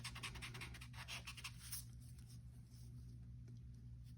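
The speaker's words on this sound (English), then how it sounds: "so I'm going to erase this" Pencil drawing on paper rubbed out with an eraser in quick back-and-forth strokes, soft and close, fading into quieter scrubbing, with no talking.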